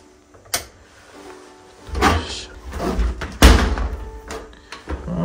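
A full-height shower room door opens and closes, with a sharp thump near the start, a longer rustling swing in the middle and a louder clack as it shuts, all close and without talk.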